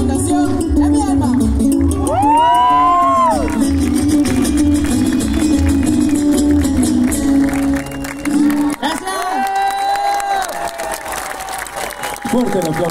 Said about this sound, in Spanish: Fuerte el aplauso, por favor, para Hanuman Conteño.